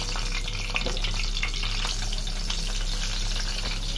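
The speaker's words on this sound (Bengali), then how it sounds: "বেগুনটা তেলে ছেড়ে দিচ্ছি, তেলটা গরম হয়ে গেছে।" Spiced brinjal pieces frying in hot oil, a constant dense crackle and hiss up close over a low steady hum, no voices.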